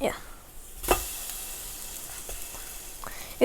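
French toast made with cinnamon sizzles and hisses steadily in a frying pan just after being flipped, with a soft clatter near the middle and brief scraping sounds toward the end.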